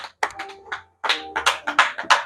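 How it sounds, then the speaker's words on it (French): A church congregation claps in bursts of applause, sharp hand claps arriving in uneven clusters with a short gap before a fuller round. "Applaudissez le Seigneur."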